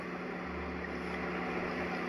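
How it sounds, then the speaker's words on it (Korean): A BMW 740 engine runs steadily just after an engine cleaning treatment, a low, even, quiet hum with constant broadband noise and no revving changes. "지금 벌써 아마 달라졌어요. 엔진 소리가."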